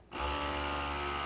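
A vacuum sealer pump draws air out of a glass canning jar, a steady whirring hum with a faint high whine that starts abruptly and keeps running at constant loudness.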